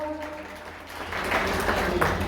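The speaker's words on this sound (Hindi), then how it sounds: "जोरदार तालियां।" Loud applause from the audience at a large community conference in Haryana. A brief stretch of a voice over a low hum gives way to a broad, sustained wash of clapping that holds strong to the end.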